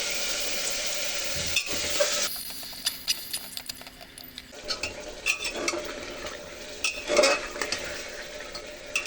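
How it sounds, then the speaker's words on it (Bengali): Meat sizzles steadily in a hot pan with fried onions while a utensil repeatedly scrapes and stirs it, producing irregular clatters over the constant frying hiss. "মাংস আলতো তাতে কষা করে নিচ্ছি"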